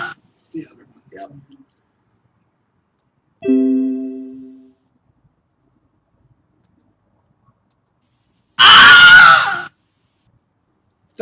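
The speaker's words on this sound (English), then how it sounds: "That's the Wilhelm. That's the scream. Wilhelm scream." Wilhelm scream, the classic stock movie sound effect: a short, loud, sharp male shriek, heard alone near the end after a burst of other voices earlier.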